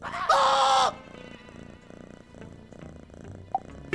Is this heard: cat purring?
yes